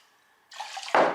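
Water poured from cups into a cooking pot for rice, a soft trickle that swells into a louder, fuller splash near the end, close by with no talking.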